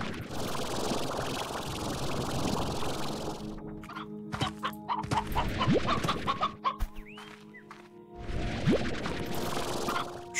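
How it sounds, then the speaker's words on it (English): Hens cluck in a farming sim video game, a few short clucks and squawks rising over a dense, steady background hiss that drops out midway and returns, with thin electronic tones in between. "Gotta shoot the hen hens into the pen pen."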